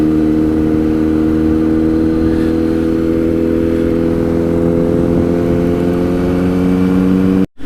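A Kawasaki Z900 motorcycle engine roars loud and close, a steady throbbing drone whose pitch creeps slowly upward before cutting off abruptly at the end.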